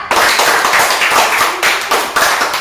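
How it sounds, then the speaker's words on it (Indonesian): A classroom of students gives group 3 a round of applause in an Indonesian school lesson, with dense, steady clapping from many hands throughout, close and loud. "kita beri aplaus untuk kelompok 3"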